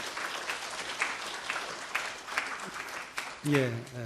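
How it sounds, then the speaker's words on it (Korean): A crowd claps steadily in sustained applause, with a voice speaking over the clapping toward the end. "우리 잠깐 일어나면 박수로 환영하겠습니다."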